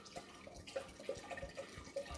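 Red table wine poured into a bowl for holiday spice sangria, a soft, steady liquid trickle with faint splashy drips, quiet and close.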